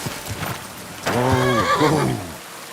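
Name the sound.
horse neighing in the video game Kingdom Come: Deliverance II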